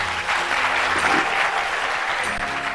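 Loud, dense audience applause from a large crowd at a live Ramadan iftar TV broadcast, continuous clapping filling the whole moment with no voices on top.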